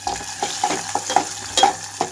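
Onions and green chillies frying in oil, a steady close sizzle with spoon scrapes and stirring clinks at irregular intervals, no voices.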